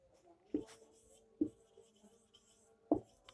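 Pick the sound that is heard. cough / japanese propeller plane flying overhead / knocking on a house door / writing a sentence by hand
writing a sentence by hand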